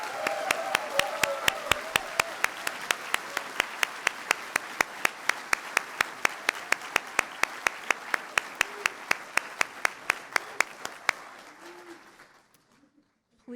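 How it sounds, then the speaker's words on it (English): A graduation audience for civil and environmental engineering applauds the faculty, a broad sustained wash of clapping that sounds moderately distant. Strong, evenly spaced sharp claps cut through it before it all fades out near the end. "So I would ask you to give a good round of applause for your faculty."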